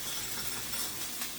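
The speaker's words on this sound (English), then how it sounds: "We're going to go ahead and throw those onions in." Chopped onions hit a hot pan of frying ground beef and sizzle in a steady, close hiss, with faint clinks of a utensil stirring.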